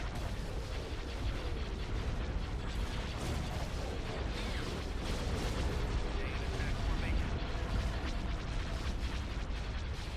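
Starship weapons fire during a Star Wars space battle game, a dense continuous rumble of blasts and booms with voices talking over the din.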